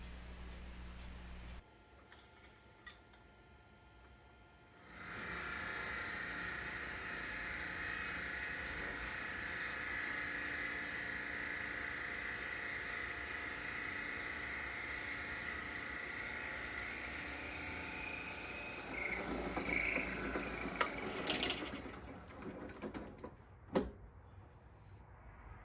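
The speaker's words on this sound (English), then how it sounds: "turn the lathe on a fairly low speed, and drill out the hole with the proper bit, in this case 8 millimeters" A lathe runs at low speed while an 8 mm bit drills into a scrap walnut pen blank, a faint, steady whirring drone under a soft high hiss, ending with a few clicks and knocks.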